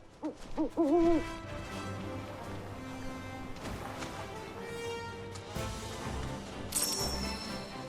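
An owl in Final Fantasy VII Rebirth gives a few quick hoots up front over game music and ambience, and a brief sharp chime is heard near the end.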